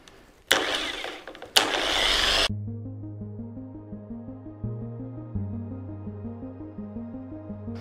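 After two loud bursts of noise, an electric car polishing machine runs at its lowest speed while spreading Turtle Wax ceramic polish, giving a close, steady, tonal motor hum with a regular pulsing wobble.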